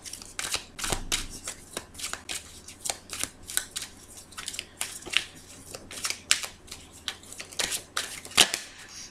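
Oracle cards shuffled and drawn by hand, a long series of crisp riffling snaps and slaps in uneven rhythm, close and fairly clear against a faint steady background hum.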